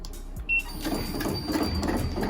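A home embroidery machine starts stitching a custom sweatshirt: a short beep, then a steady, close mechanical whirring and clatter running on without pause.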